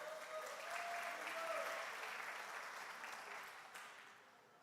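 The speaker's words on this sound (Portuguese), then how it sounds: "Dá uma salva de palmas para esse casal maravilhoso." Faint, distant applause from a church congregation for a couple, broad and steady with a brief voice rising early, then slowly fading.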